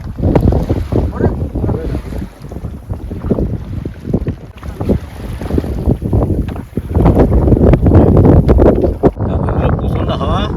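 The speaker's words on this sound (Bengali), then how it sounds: "প্রচন্ড হাওয়া" Strong gusts batter a small fishing boat on the Bidyadhari River in the Sundarbans, with loud, continuous wind rumble and buffeting throughout and occasional knocks from the boat.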